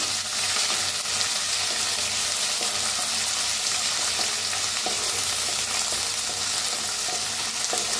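Crushed garlic, green chili, ginger and coriander roasting in a hot pan, a steady loud sizzle with occasional stirring scrapes and ticks throughout, no talking.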